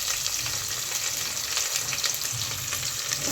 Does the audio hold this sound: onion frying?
yes